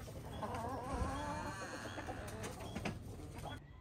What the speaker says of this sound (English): Here comes the chickens.